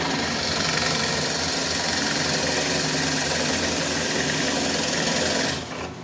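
A Bauer 1/3 HP 8-inch table top drill press runs and drills into clamped stock, its motor giving a steady, loud drone for about five and a half seconds before the sound drops away near the end.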